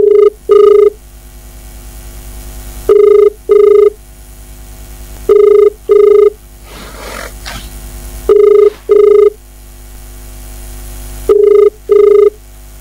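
A telephone rings on an unanswered call: loud, clean double-burst tones repeat five times at regular intervals of about three seconds, with a low hum in the gaps.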